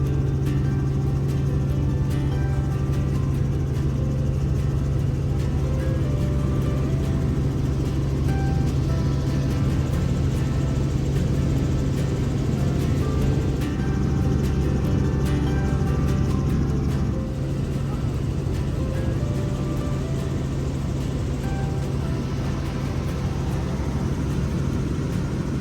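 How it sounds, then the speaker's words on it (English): Steady, loud rotor and turbine drone of a helicopter in flight on a sightseeing ride near Mackinac Island, a constant rumble filling the whole stretch with no voices. "Come along with us on a quick, beautiful helicopter ride."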